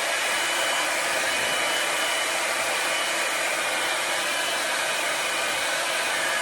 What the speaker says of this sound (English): It's where I brush these bad boys in the front a lot and blow dry.